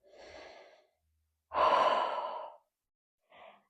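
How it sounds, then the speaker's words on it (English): A slow, deep breath taken during a gentle yoga session, heard as a soft inhale and then a longer, fuller exhale, followed by a brief lighter breath, close and quiet. "And take one deep breath here."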